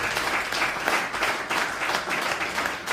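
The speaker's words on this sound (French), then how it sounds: "Applaudissez très très fort." Steady applause from a church congregation during a sermon on marriage, a continuous wash of many hands clapping, moderately loud with gentle swells and no voices over it.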